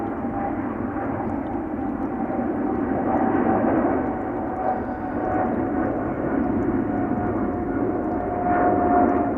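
A 12-year-old Boeing 777-300 jet at Amsterdam Schiphol Airport gives a steady, fairly loud engine roar that swells slightly now and then, a distant broad rumble with a faint whine, no talking.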